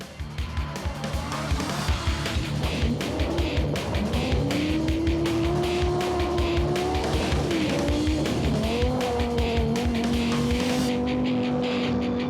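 Audi Quattro S1 Group B rally car driving hard on a rally track, its engine loud and close, climbing through revs with distinct gear changes, tire noise and sharp crackles along the way.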